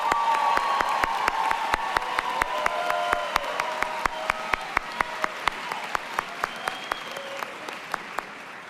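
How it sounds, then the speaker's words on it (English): Sustained applause from a graduation ceremony audience honoring Masters in Healthcare Administration graduates, a steady dense clapping that continues throughout with sharp periodic claps standing out and a faint voice surfacing briefly in the background. "Please join me in a round of applause for our Masters in Healthcare Administration."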